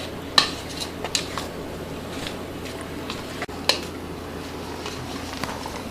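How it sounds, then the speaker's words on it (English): Sushi rice is mixed in a bowl while being fanned, with quiet scattered clinks and soft scrapes of a paddle against the bowl over a low background hum, no talking. "have a lovely assistant fan the sushi rice while you're mixing it up"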